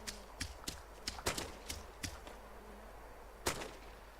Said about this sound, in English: Still hear gunfire.